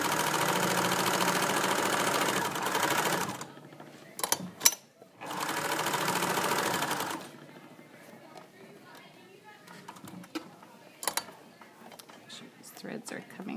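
Sewing machine stitching a hem runs in two steady, close bursts of about three seconds each with a short pause between. It then stops, leaving quieter handling noises and a voice speaking.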